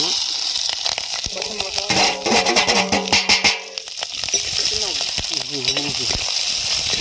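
Shallots, green chillies and garlic hit hot oil with a loud, crackling sizzle that swells as they go in, then settles into steady frying under a person speaking.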